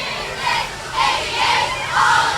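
A cheer team cheering at the Logan, Utah Pioneer Days parade, a group of voices chanting and shouting in rising and falling swells, loud and sustained against outdoor crowd noise.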